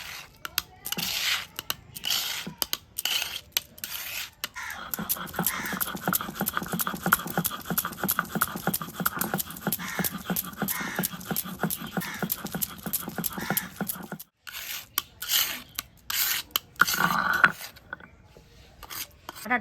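Rhythmic scraping and grinding of bottle gourd leaves into paste on a traditional grinding stone, a dense run of close, gritty rubbing strokes broken by brief pauses.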